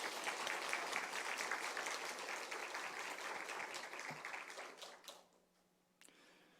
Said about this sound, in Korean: 우리 한번 큰 박수로 환영하겠습니다